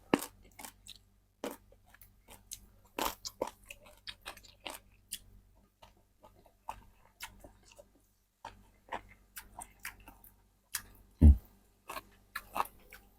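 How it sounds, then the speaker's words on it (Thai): Crunchy pea eggplant eaten as fresh vegetables with a spicy dried fish dip, chewed in irregular close, crisp crunches and bites with short pauses between. "มะเขือพวงกรอบมากเลยครับ"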